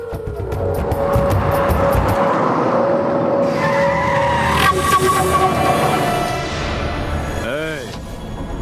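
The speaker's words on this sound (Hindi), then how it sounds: "चल गाड़ी पीछे ले, पीछे ले।" A car backs up in a movie action scene, with loud skidding and squealing tires over a continuous engine roar, a sharp pitch sweep near the end, and voices heard in the mix.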